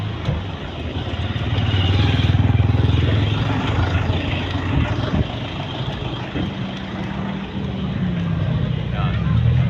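A motorized tricycle engine drones steadily and loudly through the whole ride, close by, with a low throbbing hum that shifts slightly in pitch over time. Voices speak over the engine.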